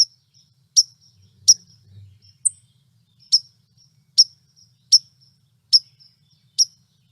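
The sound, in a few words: white-throated sparrow calls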